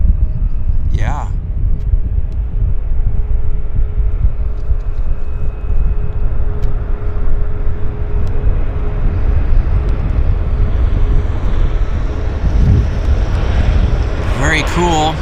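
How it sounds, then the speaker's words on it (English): A WestJet Boeing airliner touches down on a wet runway at Vancouver's YVR, heard as a steady, broad roar and rumble of engines and spray that holds for the whole stretch, with a brief higher whine near the end. "Good sync rate on the Boeing. And we're going for a nice landing here."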